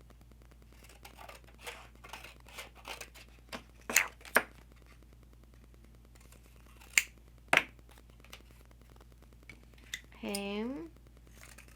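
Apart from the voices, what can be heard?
scissors cutting squares from a vintage postcard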